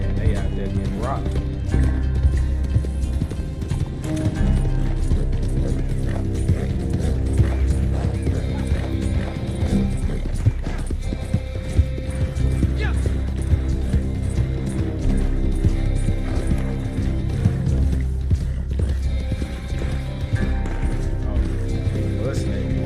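Horse hooves clip-clop and gallop in Red Dead Redemption 2 Online, with occasional whinnies, steady and close, under near-constant talking from several players.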